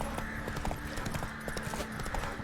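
Roach the horse gallops in The Witcher 3, with a steady, fast run of hoofbeats close and clear over a dense game soundscape.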